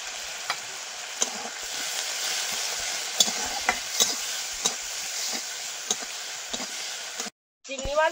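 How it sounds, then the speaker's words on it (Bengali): Prawns frying in oil with salt and turmeric give a steady sizzle, broken by scattered crackles and stirring clicks at close range. "লবণ হলুদ দিয়ে ভেজে নেব।"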